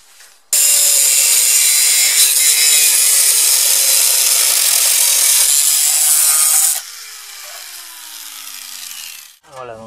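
A power tool cuts through the metal edges of an old lid for a clay rocket stove, a loud harsh grinding screech lasting about six seconds, then a quieter whining rundown as the tool slows.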